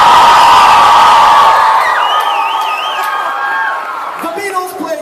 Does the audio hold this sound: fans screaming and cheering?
yes